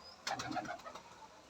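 High-flying pigeons in a loft give a short burst of soft, close cooing lasting about a second, with faint background hiss and no talking.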